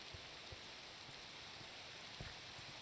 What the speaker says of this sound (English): It's raining and getting.